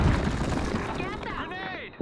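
A grenade blast in the shooter game Blackshot on the Sand Storm 2 map, a loud rumbling explosion that fades over about two seconds as a voice speaks over the tail.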